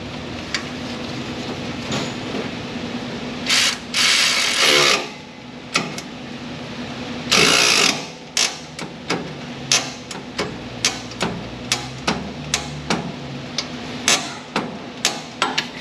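Ratchet and wrench work tightening exhaust manifold bolts on a Ram 1500 with a 5.7-liter engine, heard as a series of sharp metallic clicks and clacks in irregular bursts, with a couple of louder rasping stretches over a steady low hum.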